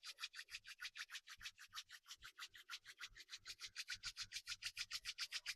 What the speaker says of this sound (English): Rubbing those palms together more.